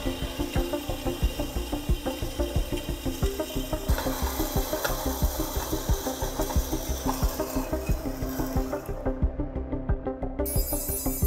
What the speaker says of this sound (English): I pretty much stop pushing the part through the saw